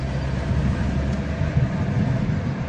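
A diesel car with a worn injection pump and injectors, treated with Ceramizer engine additive, hums steadily while driving and holding revs, a low continuous engine drone with road noise and no talking.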